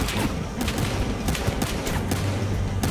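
Rapid bursts of gunfire in the Battlefield Hardline video game, a dense fusillade of overlapping shots and thuds, loud and close throughout the brief stretch.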